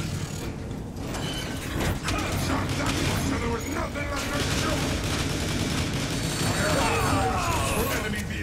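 Weapon gunfire in the video game Transformers: War for Cybertron, with dense mechanical clanks, ratcheting and booming shots. The sound is loud and continuous, layered over busy game effects with speech mixed in.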